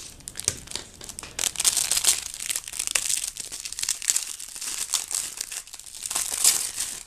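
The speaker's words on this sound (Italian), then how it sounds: "Apriamo l'ultima confezione." Plastic packaging around an iPad mini case being opened, crinkling and rustling in close, irregular bursts throughout at modest loudness.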